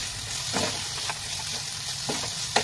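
Shredded boiled chicken is stirred into tomato sauce in a pan for a bread chicken roll filling, with a soft steady sizzle under a few short scrapes and clinks of the spoon.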